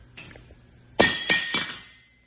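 A Rigid LED DXL50 Pro Series light bar is dropped and hits the ground, giving three sharp hard impacts in quick succession, loud and close, with a faint earlier knock before them.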